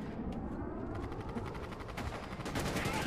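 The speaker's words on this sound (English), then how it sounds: "Oh, the Grenadier bombardment." Grenadier bombardment in Starship Troopers: Extermination, a dense rapid barrage of gunfire-like blasts and explosions rumbling continuously, swelling louder near the end.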